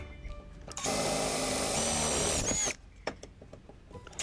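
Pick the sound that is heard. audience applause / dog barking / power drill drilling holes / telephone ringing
power drill drilling holes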